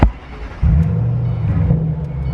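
Ford Shelby GT500 fitted with a new aftermarket exhaust and a fresh tune, cranking briefly and then catching into a loud, deep idle rumble that stays steady and close after the start.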